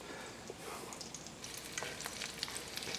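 Coleslaw cabbage fritters fry in a skillet with a soft, continuous sizzle and faint crackling pops, quiet and close, no talking.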